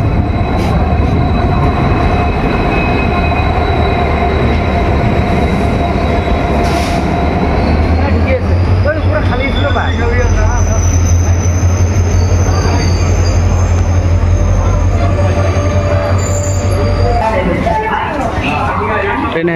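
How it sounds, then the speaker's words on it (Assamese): A train pulls into Rangiya station with a loud, continuous rumble of wagons, a drawn-out wheel squeal and metallic rail clatter that fill the whole stretch. "ট্ৰেইন আহি গ'ল"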